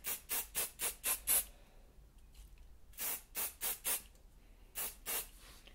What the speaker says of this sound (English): I put my finger underneath the curl and I spray it like that